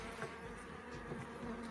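Bees buzz at a beehive in a steady, close, droning hum with no talking.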